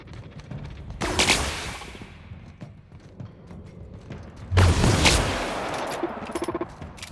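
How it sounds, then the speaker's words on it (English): Gunfire in The Outer Worlds video game: two bursts of rapid automatic shots about three seconds apart, with mechanical clatter between them, no voices. "What is even shooting at me?"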